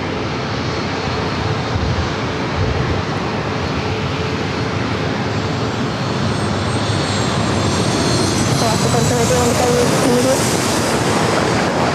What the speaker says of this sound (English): next arrival, already short final for runway 27